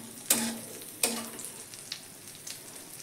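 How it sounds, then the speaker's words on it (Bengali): Egg frying in a pan, two sharp clattering hits near the start, then a soft sizzle with a few faint taps, close and quiet, no talk. "এবার ডিমটা ভেজে নেব।"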